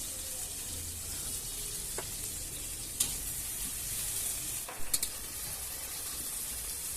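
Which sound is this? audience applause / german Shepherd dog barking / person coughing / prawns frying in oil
prawns frying in oil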